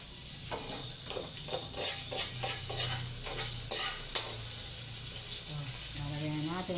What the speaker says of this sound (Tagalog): Gisang hipon.